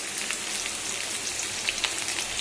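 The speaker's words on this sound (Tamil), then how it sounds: "கடுகு சீரகம் பொரிஞ்சிருச்சு. பொடிசாக நறுக்கி வச்சுருக்க வெங்காயம் சேர்த்துக்கலாம்." Mustard seeds, cumin and onion crackle and sizzle in hot oil for a South Indian bean and carrot stir-fry, a dense, steady spatter of small pops throughout, fairly quiet and with no talking.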